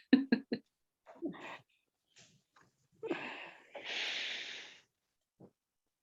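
A woman yawns close to the microphone during an online session: a few short clicks and breaths, then a long, breathy, drawn-out exhale, with one faint sound after.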